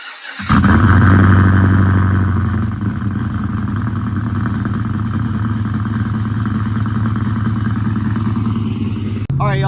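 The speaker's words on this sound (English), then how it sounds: "But first, let's do a cold start." A cammed Chevrolet Silverado pickup engine cold-starts, cranking and catching at once, then settles into a loud, steady idle with a deep rumble that continues until a brief change at the very end.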